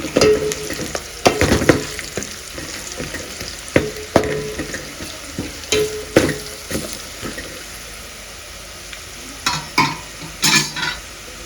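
Chicken frying in a pan with turmeric being stirred in, a village-style Rayalaseema chicken kushka: close, loud sizzling with repeated scraping stirs in irregular bursts, no talking.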